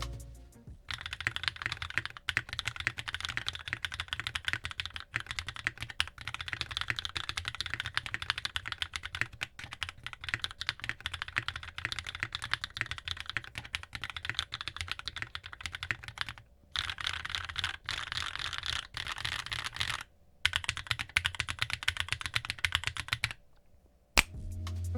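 Fast, steady typing on an AEboards Constellation mechanical keyboard with Zenclack switches, a brass plate, gummy O-ring mount and GMK Minimal keycaps, dense clacking keystrokes continuing alone with a couple of brief pauses.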